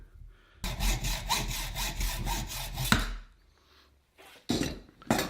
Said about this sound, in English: So I need to cut the head off this screw here. So you just use a hacksaw for that.